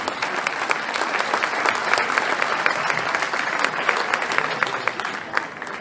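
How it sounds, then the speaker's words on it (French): Concert audience applauding, a dense, steady clapping from a sizable crowd, moderately loud and sustained for several seconds without talk. "Et on peut les applaudir."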